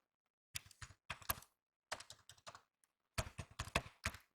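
Java code being typed on a computer keyboard: quick clusters of close, crisp key taps in three bursts, separated by short silent pauses.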